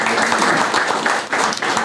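An audience at a college event breaks into dense, steady applause that fills the short moment without any talk.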